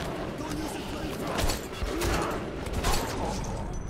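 Gunfire in the video game Metro 2033, a few sharp cracks and rattling bursts spaced over a few seconds amid a dense, noisy game soundscape.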